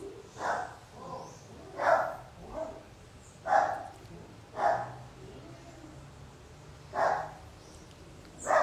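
A dog barks about seven times, single sharp barks spaced roughly a second apart, fairly close by.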